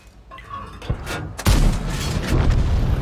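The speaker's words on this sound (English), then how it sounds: "Yes, we are firing into their rear." Tank guns from a World of Tanks match, an M4A3E2 Sherman Jumbo battle, fire in heavy booming blasts: a sharp shot, then a loud sustained rumble of gunfire and explosions rolling on.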